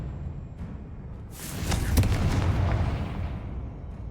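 Bombarda and Confringo spell explosions in Hogwarts Legacy, a sudden blast with a sharp crack that rumbles and decays over a couple of seconds, close and loud.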